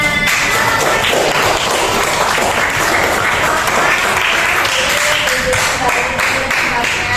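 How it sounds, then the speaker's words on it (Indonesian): Steady, loud applause from a classroom of students, many hands clapping continuously throughout with a few voices mixed in. "beri tepuk tangan untuk kelompok aktif yang sudah mempresentasikan peta konsepnya."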